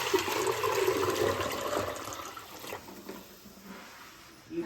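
Water being poured into a pot for shirkurma, a milk and dry fruit dessert: a continuous splashing pour that is loudest early and gradually thins and softens, with no talk.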